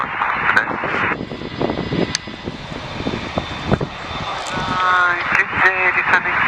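Airliner taking off at Dublin Airport from runway 10 right, a steady engine roar building and rising toward the end, heard from a distance with intermittent voices and rustling nearby.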